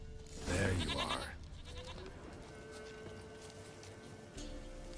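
A goat in The Witcher 3 video game lets out one loud, wavering bleat, followed by quieter game ambience and faint background tones.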